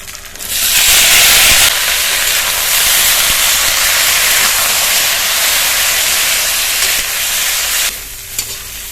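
Sliced potatoes and bitter gourd hit hot oil with fried onion in a pan, giving a loud, sustained sizzle and hiss that swells at once and holds steady before easing off near the end.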